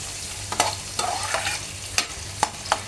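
Onions frying in a pan for a spicy chira (flattened rice) snack, a steady low sizzle broken by several sharp stirring scrapes spaced irregularly, close and fairly quiet, with no talking.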